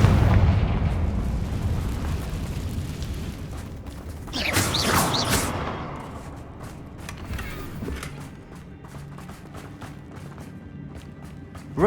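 In Hogwarts Legacy, the Confringo explosive spell bursts in a loud blast that swells over about a second and trails into rumbling debris, followed by scattered crackles and clatter.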